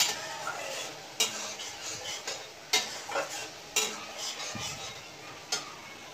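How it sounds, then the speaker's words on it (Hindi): Sugar going into boiled cucumber in a pan for sweet kheera chutney, with repeated close clinks and scrapes of a spoon against the pan over a soft sizzle, no talking. "अभी मैं चीनी ऐड कर रही हूँ"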